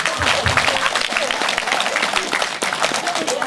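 Spectators clap at a taekwondo board-breaking demonstration, dense and lively applause held throughout, with crowd voices mixed in.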